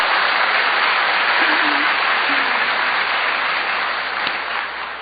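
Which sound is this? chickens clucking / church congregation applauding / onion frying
church congregation applauding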